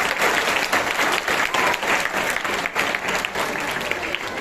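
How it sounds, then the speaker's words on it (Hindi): Steady, full applause from an audience at a school Republic Day event, with thick continuous clapping lasting throughout and a faint murmur of crowd beneath. "एक बार जोरदार तालियां बजाइए"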